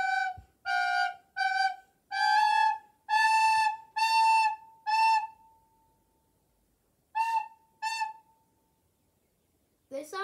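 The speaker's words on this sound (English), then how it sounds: "This sounds like a plasticky recorder." A large plastic recorder played close up: a run of clear, breathy sustained notes in short phrases, a pause, then two more notes, alone without talk.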